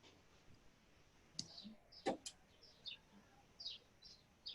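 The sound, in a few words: birds chirping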